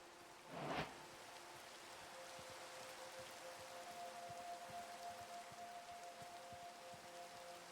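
Rain falling in a modded hardcore Minecraft world, a soft continuous hiss of rainfall with a faint steady tone beneath and a brief louder crackle near the start, no speech.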